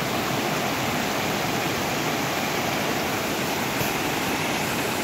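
Waterfalls in jungle near Catemaco, Veracruz, send up a steady, loud broadband rush of falling water that holds unbroken and close for the whole stretch, with no voices over it.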